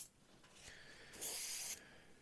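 An airbrush sprays Tamiya X20A thinner to flush it clean, giving a short, sharp hissing burst of about half a second after a quieter lead-in.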